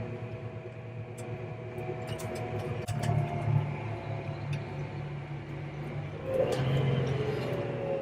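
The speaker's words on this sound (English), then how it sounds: "That's actually the transmission of this machine slowing us down." A heavy farm machine's transmission brakes it to slow down on the road: a steady low mechanical drone with whining harmonic tones, slightly louder and rougher in a few stretches, with faint clicks and rattles over it.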